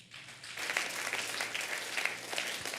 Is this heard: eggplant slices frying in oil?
no